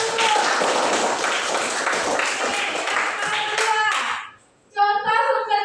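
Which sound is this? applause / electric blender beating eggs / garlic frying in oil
applause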